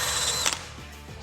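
DEWALT 18V DCD1007 brushless hammer drill spinning at speed 2, a loud close whine that settles then drops off with a short mechanical clatter as it slows.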